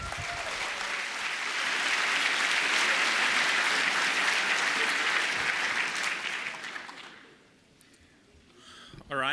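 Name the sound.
applause for speakers at a hacking conference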